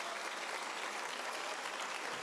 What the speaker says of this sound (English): Can we just get a round of applause for all of you who are here today?